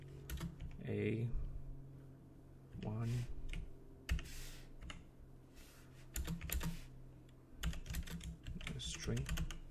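Java code is typed on a computer keyboard in quick bursts of clicking keys. A voice talks over and between the typing.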